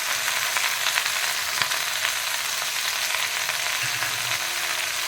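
Chopped capsicum frying in a hot pan for a Christmas Eve dish, a steady, even sizzle that holds throughout with faint scraping stirs underneath.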